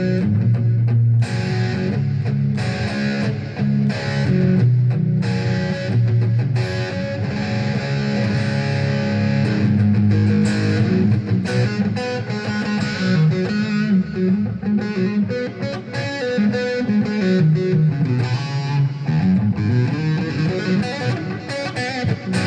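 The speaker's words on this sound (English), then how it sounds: "Still hear that pickup in there, that sort of quacking going on, that tele type tone." Electric guitar played through the middle pickup position, giving a quacky Tele-style tone with sustained chords and lines throughout, slightly driven and alone.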